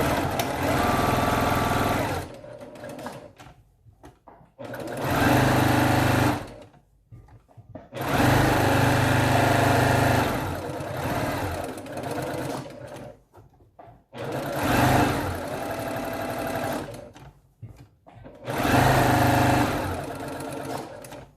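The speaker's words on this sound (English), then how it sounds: "we're going to top stitch around the whole thing 1/4 inch" A sewing machine top stitches a quarter inch around the edge of an octagonal box fabric mask, running loud and close in five steady bursts separated by short pauses.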